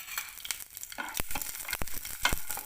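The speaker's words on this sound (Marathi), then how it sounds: "आता याच्यात लसूण भाजून घेऊयात. थोडंसं तेल टाकूया." Garlic frying in a little oil, for a spicy cluster-bean sabzi, crackles and sizzles close up, with sharp stirring scrapes and spattering pops breaking through at irregular intervals.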